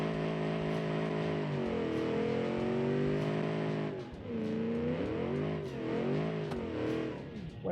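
A Shelby Mustang replica in the Automation game revs hard in a drag run, its engine tone climbing and dipping through gear changes, loud and close with a steady buzzing drone.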